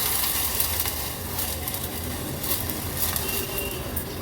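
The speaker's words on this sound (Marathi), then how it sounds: "आता ह्याच्यामध्ये आपण ही स्वच्छ धुतलेली मसूरची डाळ ॲड करूया" Washed masoor dal tipped into onions softened in hot oil, setting off a loud, steady, close sizzle and frying hiss that stays constant throughout with slight swells.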